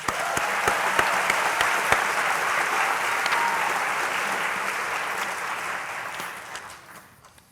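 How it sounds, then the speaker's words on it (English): A school ceremony audience applauds a choral director in dense, sustained applause that stays loud and even for several seconds before tapering off near the end. "Let's give him one more round of applause"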